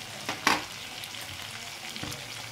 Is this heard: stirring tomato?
yes